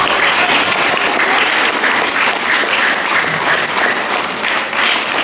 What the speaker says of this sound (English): I think you need another round of applause.